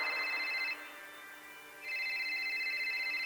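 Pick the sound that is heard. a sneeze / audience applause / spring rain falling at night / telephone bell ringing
telephone bell ringing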